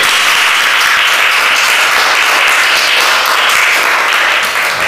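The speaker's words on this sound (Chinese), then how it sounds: "我们拍手归荣耀给主" A church congregation claps together during a worship service, a loud, steady wash of many hands sustained throughout without pause.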